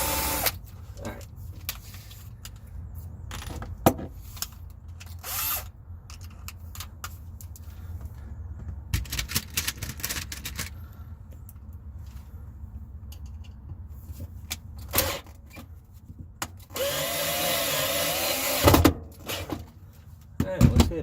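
A power drill bores a pilot hole in a soft RV bathroom floor, with bursts of whirring motor and grinding through the boards, close up and mixed with clattering handling noises and some talk.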